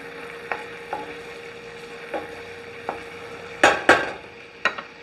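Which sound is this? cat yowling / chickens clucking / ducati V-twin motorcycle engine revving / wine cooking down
wine cooking down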